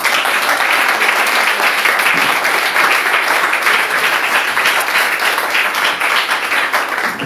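A church congregation applauds for the Lord during a French-language service, many hands clapping in a full, continuous roar that holds steady and loud throughout.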